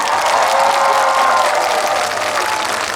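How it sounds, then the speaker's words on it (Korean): A large crowd at an outdoor trot concert during the Chuncheon makguksu and dakgalbi festival claps steadily and loudly throughout, a dense, continuous wash of applause with faint cheering mixed in. "잘 지내신 분들만 박수 한번 보내볼까요?"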